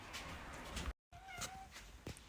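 A house cat meows close by, giving a couple of drawn-out, wailing calls broken by a short silent gap, with no talking.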